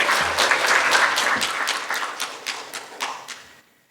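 Audience applause at a Korean water symposium after a presentation, a dense burst of clapping that thins out and fades over about four seconds.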